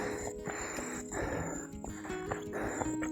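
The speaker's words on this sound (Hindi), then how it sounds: "हमारी सांसों की आवाज़ें आ रही है" Heavy, rhythmic breathing and snorting wheezes from people walking along a path behind an 89-year-old grandfather, close and steady for about three seconds with faint footsteps.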